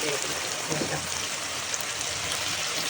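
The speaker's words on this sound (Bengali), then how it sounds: "খুব ভালো করে আলুগুলো ধুয়ে নিচ্ছে একদম ধুয়ে ধুয়ে" Running water splashes and trickles steadily as potatoes are rinsed, with faint voices in the background.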